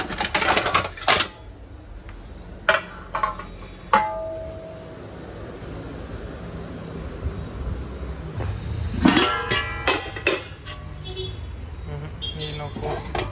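Plates and utensils clink and clatter in sharp bursts as food is served at a home meal, with a quieter stretch in the middle before a busier run of clatter near the end.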